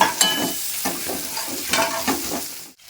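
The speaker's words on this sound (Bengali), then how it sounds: "এবারে খুন্তি দিয়ে আমি ভেঙে দেব।" A spatula breaks up frying potato pieces in a hot pan, with a few sharp scraping knocks over a continuous sizzle, close and fairly loud, ending abruptly.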